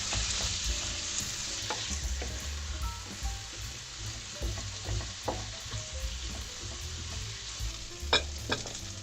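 Garlic sizzles in a hot pan while a spatula stirs and scrapes, with occasional sharp knocks against the pan, close up and no talking.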